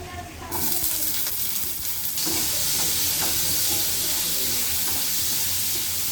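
Potatoes dropped into hot oil in a home kitchen: a sudden loud, dense hiss that eases briefly, then swells again into a strong, continuous crackling sizzle, close up with no talk.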